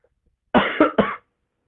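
A person coughs three times in quick succession, close and fairly loud, during a religious lecture in an otherwise quiet room.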